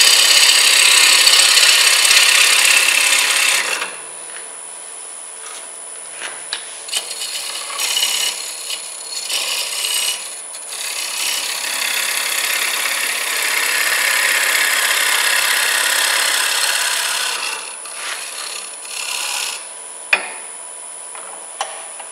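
A green wood bowl spins on a lathe while a tool held at a 45-degree angle takes a smoothing cut. A loud, continuous scraping rasp pauses briefly and then resumes, close by.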